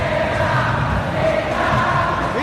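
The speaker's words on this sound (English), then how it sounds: "Well, the crowd clearly like what they just saw." A packed football stadium crowd at a Persija Jakarta vs Persijap Jepara league match roars steadily in a dense, continuous wash of cheering and chanting.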